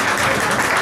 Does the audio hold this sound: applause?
yes